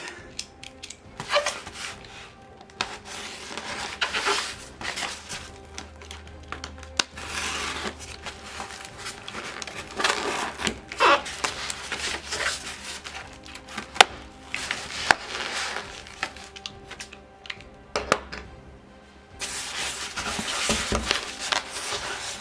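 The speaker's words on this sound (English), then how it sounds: "I'll need my knife again. This styrofoam appears to be the crumbly kind." A knife saws and scrapes through crumbly styrofoam packaging, with repeated squeaky crunches, creaks and snaps in uneven bursts, close and fairly loud throughout.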